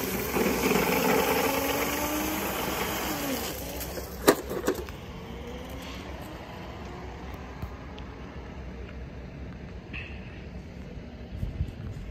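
A motorized scooter being ridden outdoors, its engine droning loudly with a rising and falling pitch at first, then fading into steadier, quieter running with wind and road noise.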